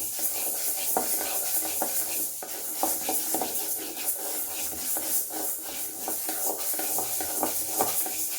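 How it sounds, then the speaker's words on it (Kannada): Moong dal dry-roasted and stirred in a pan at home, a continuous gritty scraping and rustling of lentils against metal with regular spatula strokes, close and moderately loud, no voices. "ಹೆಸರು ಬೇಳೆನೂ ಅಷ್ಟೇ ಗಮ್ ಅದವ್ರಿಗೂ ಕೂಡ ಹುರಿಬೇಕು ಸ್ವಲ್ಪ ಕಲರ್ ಚೇಂಜ್ ಆಗಬೇಕು ಅದು"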